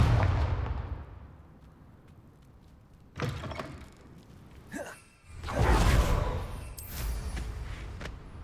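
Spell explosions from the Bombarda charm in Hogwarts Legacy: a low booming blast with a whooshing tail, then a second, louder burst a couple of seconds later, with no talking.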